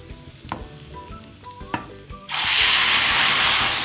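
A few clinks and stirring noises, then a sudden loud, steady sizzle as water and red chillies hit hot oil for a tempering and keep crackling.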